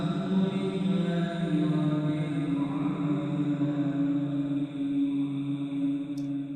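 Isolated room-reverb effect track with the dry vocal removed, leaving a continuous smeared, echoing wash of tone that stays at a steady moderate level for several seconds with no clear words.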